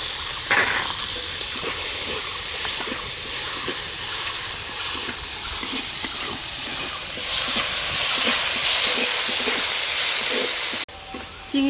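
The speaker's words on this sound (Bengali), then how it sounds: "চিংড়ি মাছটা ভেজে নেব।" Prawns frying in a pan for a Bengali jackfruit-and-prawn dish make a steady, loud, close hiss with crackles and spatters throughout, swelling slightly near the end before a brief dip.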